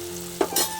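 Capsicum and tomato fry in a pan with spices while a spoon stirs them. There is a soft, steady sizzle with a short scrape and clatter of stirring partway through, and no voices.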